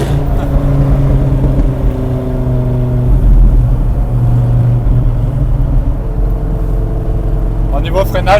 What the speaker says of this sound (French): On a le son des échappements.